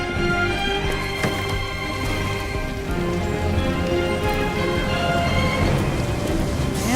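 Heavy rain pours steadily on a stormy night in the video game Detroit: Become Human, a dense continuous hiss with low rumbling thunder beneath, constant and close.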